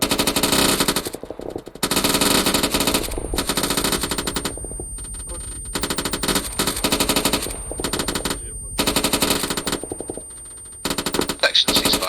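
Sustained machine gun fire in the Arma 3 video game comes in long loud bursts of rapid overlapping shots with short gaps, heavy and close, with faint background voices.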